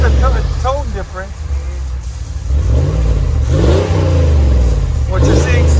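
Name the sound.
2020 RAM 1500 5.7L HEMI exhaust with Dynomax turbo muffler revving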